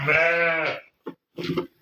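A sick lamb with a bad chill bleats close by: one long wavering bleat, then two short quavering cries after brief pauses.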